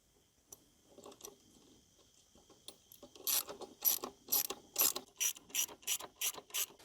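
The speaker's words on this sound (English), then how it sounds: "I'll probably snug these up with the 8mm socket and the 10mm wrench on the back" Socket ratchet and wrench snugging crash bar bolts on a KTM 690 Enduro, a few soft clicks at first, then a loud, regular series of close ratcheting clicks.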